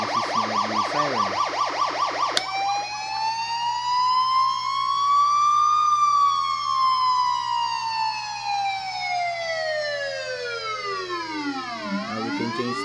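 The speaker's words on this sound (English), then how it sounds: "Siren." A homemade electronic siren generator from the Philippines cycles through a fast warble, then sweeps into one long slow rising and falling wail with its frequency changed, loud and close throughout with no talking.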